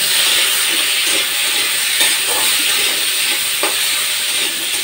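Potatoes seasoned with salt and turmeric fry in hot oil in a pan, a loud, continuous sizzle and hiss with occasional scrapes and clinks as they are stirred.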